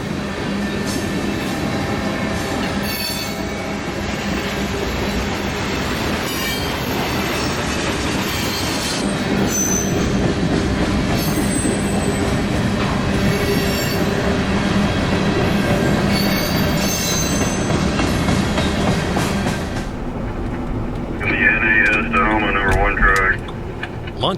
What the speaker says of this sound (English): C40-8W leading today, followed by one of CSX's newly rebuilt SD40-3s, a standard cab -8, and a 4-axle Jeep 38-2.